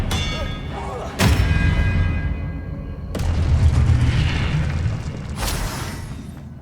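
Expelliarmus spells cast in Hogwarts Legacy land as three sharp, booming magical impacts, each a bright crack followed by a resonant rumbling tail, spaced a couple of seconds apart over ambient game sound.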